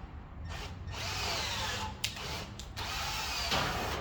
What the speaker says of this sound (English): what I'll be able to do is drill through both of the holes now